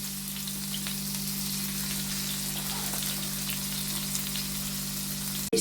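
Prawns fry in a pan over a low flame, giving a steady, dense sizzle that continues evenly and close by, ending in a brief bump.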